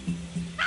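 A puppy gives two short, low yips, about a quarter second apart, followed by a brighter higher yelp near the end, close by and moderately loud with no talking.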